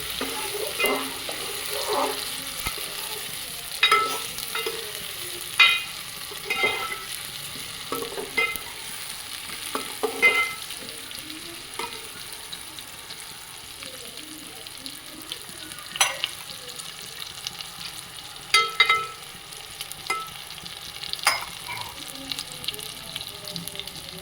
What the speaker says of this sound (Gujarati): હવે આપણે એમાં રીંગણા નાખી દઈશું પછી એને થોડીક વાર હલાવશું